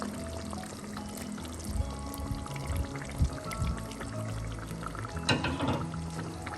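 Ground coconut paste is poured into a Kerala Malabar-style chicken curry, giving a soft, continuous wet pouring and slopping with a few sharper plops, close by and without talk.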